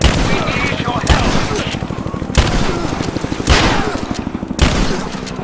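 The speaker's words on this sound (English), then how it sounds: "We're under fire at the edge of the village." Gunfire in Rise of the Tomb Raider during a firefight at the edge of a village, rapid bursts of automatic shots broken by several heavy booming blasts, loud and close, with shouting voices over the shooting.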